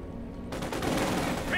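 Battle gunfire in the WWII strategy game Company of Heroes 2, a 2v2 match, starts abruptly and continues as a sustained crackling barrage of overlapping shots, with commentary over it.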